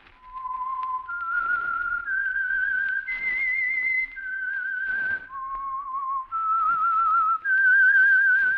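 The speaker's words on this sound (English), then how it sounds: "That whistle is your signal" A clear whistled melody of sustained notes stepping up and down in pitch, a radio program signal tune, played alone with brief breaths between phrases.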